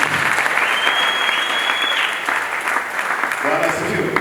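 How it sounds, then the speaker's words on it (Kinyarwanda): A church congregation applauding during a sermon, loud continuous clapping from a large crowd, with a voice rising over it near the end. "Turikomera amashyi"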